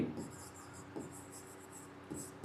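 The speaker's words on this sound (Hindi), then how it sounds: "नीचे लिखेंगे" A pen scratches on paper in short, quiet strokes while a maths problem is worked out. Several soft scribbles come in quick bursts with brief pauses between them.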